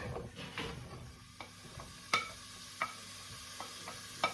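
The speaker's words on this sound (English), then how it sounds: "we're going to add into the pan 110 grams of bacon finely chopped, and all of it, like as much fat removed as you can, and one onion also finely chopped" Finely chopped bacon and onion frying in a pan, a soft steady sizzle with occasional sharp clicks and scrapes of a utensil stirring, close and moderately quiet.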